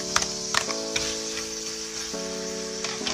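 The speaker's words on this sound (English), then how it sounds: "You need to put the garlic on the pan" Garlic sizzles steadily in a hot pan for a beefsteak-and-vegetables dish, a continuous frying hiss with a few light clicks of stirring, near and alone.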